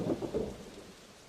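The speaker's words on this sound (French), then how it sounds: "Le lendemain, il pleut," Rain falling with low rumbling thunder, a couple of soft rolling swells at the start fading into steady patter, moderately quiet and with no voices.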